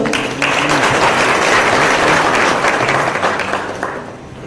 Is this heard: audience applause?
yes